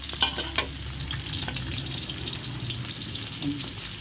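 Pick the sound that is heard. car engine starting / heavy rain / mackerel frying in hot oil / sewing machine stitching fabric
mackerel frying in hot oil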